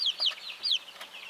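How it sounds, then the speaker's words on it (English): High, thin chirping calls from Sandjack chicks in a brooder repeat in quick succession, several overlapping peeps close by with no talking. "We've got 14 sandjack chicks coming along"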